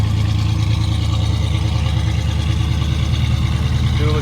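A 1967 Camaro with dual exhaust idles on a cold start, giving a loud, steady, deep rumbling burble that holds evenly throughout at close range with no talk.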